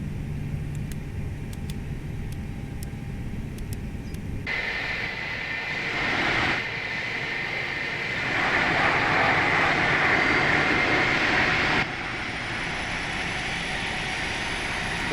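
Airbus A319 jet engines in a flight simulator spool up for takeoff, a steady broadband roar that swells in stages and grows louder over about fifteen seconds, with no talking.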